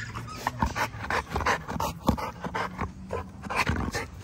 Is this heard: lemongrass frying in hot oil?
no